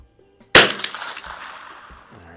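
A single .22 LR rifle shot fired with Federal Auto Match ammunition at a target downrange gives a loud, close crack with a quick echo, then a long fading reverberation.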